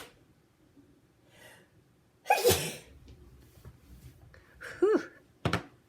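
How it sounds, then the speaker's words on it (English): A single loud sneeze bursts out after quiet breathing, followed by a short breathy exhale and a sharp snort-like sound. "Oh, I'm going to sneeze."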